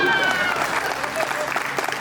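Live audience at a Hindi hasya kavi sammelan, a comedy poetry show, breaks into steady, dense applause for about two seconds, with a voice talking over the clapping.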